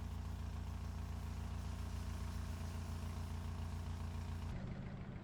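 Small 63 horsepower Autobello Piccolina car idling in BeamNG Drive, a steady low engine drone held close and constant, with its tone shifting slightly near the end.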